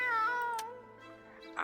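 A cat meows in a video game, a clear drawn-out tonal call with falling pitch followed by a softer second cry, close and alone without talk.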